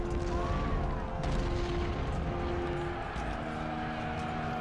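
Gunfire in an Ultimate General: Civil War battle at Chancellorsville: a steady, dense wash of distant musket and artillery fire rumbling continuously with a few louder reports rising out of it.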